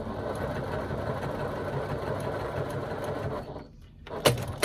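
A sewing machine stitches fabric in a fast, steady, close-up mechanical whir, then stops briefly before a single sharp click.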